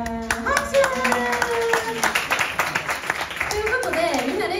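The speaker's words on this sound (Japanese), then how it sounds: "イエーイ、拍手" Audience clapping at a live show as two performers are about to sing, a burst of claps mixed with cheering and voices throughout.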